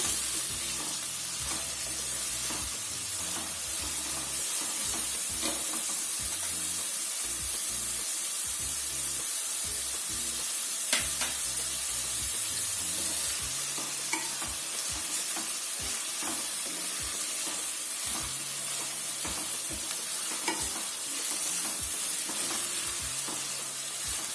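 Chopped onion sautéing in a pan over a medium gas flame for akkha masoor, a steady sizzle broken by the repeated clatter of a spatula stirring throughout, close and continuous.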